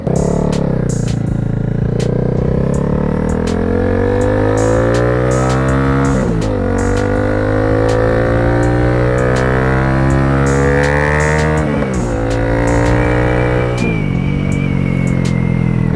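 Honda CB300R motorcycle engine while riding, a loud continuous drone that climbs in pitch through gears with brief dips at shifts, close and steady, no talk.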